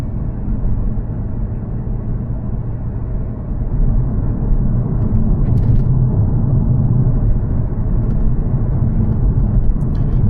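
Steady car engine drone and road rumble heard from inside the cabin while driving along a 40 mph road in Glasgow. The engine note lifts slightly partway through as the car shifts up into fourth gear, and nobody speaks.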